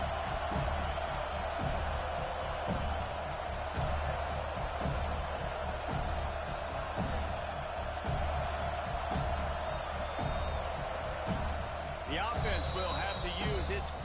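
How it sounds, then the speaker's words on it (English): Packed college football stadium crowd roaring steadily as the opposing team drives for a field goal, a dense continuous wash of noise with faint voices over it. "This crowd trying to do its part to get inside the kicker's head."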